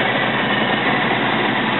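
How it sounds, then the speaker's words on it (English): A 2001 Ford F350 with a Triton V10 engine idles outdoors in cold weather, a steady, even engine drone held at constant loudness without a break. "You can see the engine sitting there running."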